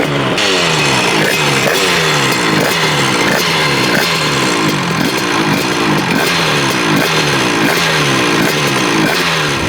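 A freshly built Rieju MRT Pro 100cc motorcycle engine runs steadily and loud, its rhythmic pulsing exhaust buzz repeating evenly throughout with no talk over it.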